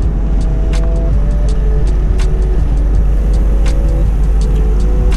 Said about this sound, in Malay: Wah, kancil memotong kancil.